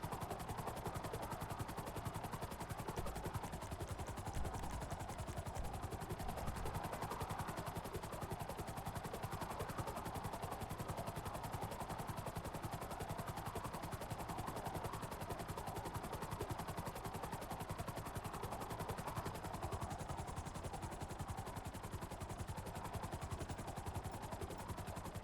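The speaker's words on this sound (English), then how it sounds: "And you can just take this target out from the helicopter here." Helicopter in GTA Online flying with a steady, continuous rotor drone and engine roar throughout, loud and dense, with faint bursts that may be distant gunfire.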